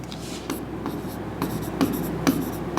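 A pen scratches across paper in short, close strokes, jotting accounting entries during a lesson on dissolving a partnership firm.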